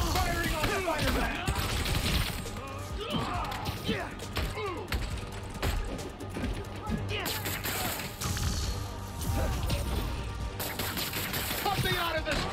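Dense gunfire and crashing impacts in the video game Marvel's Spider-Man: Miles Morales, loud and continuous under busy game music and shouting voices, with repeated bursts and smashes throughout.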